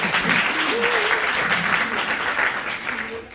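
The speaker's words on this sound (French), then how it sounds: "Vous pouvez les applaudir." Warm applause from an audience at a professional gathering, steady dense clapping throughout, with a voice briefly audible underneath.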